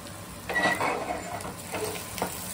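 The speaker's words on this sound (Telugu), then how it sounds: "ఇది అప్పుడప్పుడు కలుపుకుంటూ ఉండాలండి" Gongura mixture is stirred as it fries in a pan, a steady sizzle running throughout with several scraping stirs of the spoon, close and moderately loud.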